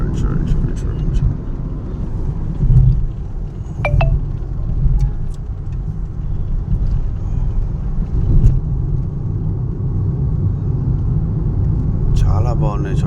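Busy road traffic in Mumbai, a dense steady rumble of vehicles with occasional horn blips, close and loud, while a person talks throughout.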